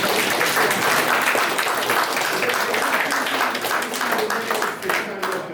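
An audience gives a speaker a round of applause at a talk on Ireland's round towers: dense, sustained clapping from a full room that stays loud throughout, with faint voices mixed in.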